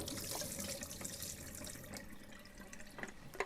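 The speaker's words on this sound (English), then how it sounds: "So 3 really good rinses with water, like this," Water sloshing and running while a film developing tank is rinsed with continuous agitation, a steady close splashing wash throughout.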